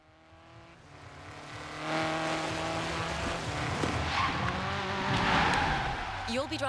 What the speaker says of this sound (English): Driving the buggy for the launch event against that Jeep.